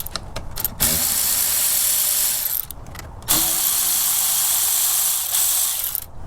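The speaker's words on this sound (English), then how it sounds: "I'm going to use my Milwaukee Ratchet with a short extension and a 10mm socket to loosen these" Milwaukee ratchet with a short extension and 10mm socket loosening air tube clamps on a Toyota Land Cruiser FZJ80 engine: rapid, close clicking ratchet runs in several bursts with brief pauses between them.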